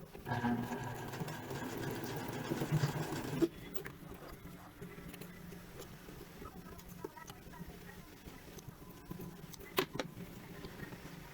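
A sewing machine runs a double straight stitch on a retro jumpsuit, whirring steadily and loudly for a few seconds before dropping to a quieter, intermittent hum with small clicks; no talking is heard.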